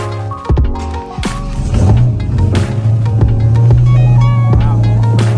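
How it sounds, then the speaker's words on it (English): A Dodge Hellcat Charger engine cranks with clicks and catches, rising into a loud, deep, steady idle rumble close by. "So you can see when I start the car."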